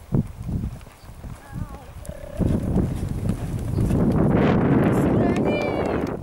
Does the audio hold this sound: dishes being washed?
no